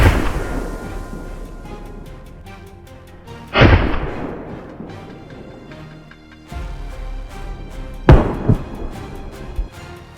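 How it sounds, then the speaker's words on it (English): Gunshots boom out during a wild boar hunt on a forested hillside, three loud separate blasts spaced several seconds apart, each ringing off into a long echo, with no talk. "As soon as the boars appeared, a volley of gunshots rang out"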